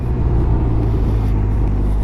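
A Can-Am Ryker three-wheeled motorcycle cruising on a road during a group ride to Waleska, Georgia, giving a loud, continuous low engine rumble with steady wind and road noise.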